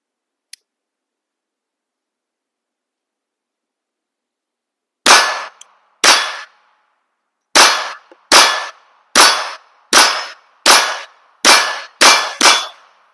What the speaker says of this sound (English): Next up, 10 rounds. Remington Golden Bullets.